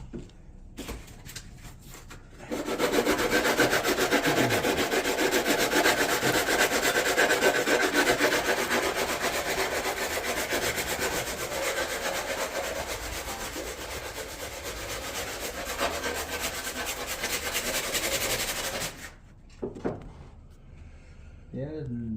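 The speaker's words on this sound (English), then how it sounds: "Good old 2-inch. There you go. Sandpaper." Wood is sanded by hand with 2-inch sandpaper, giving a long, steady, close rasping scrub. People talk quietly before and after the sanding.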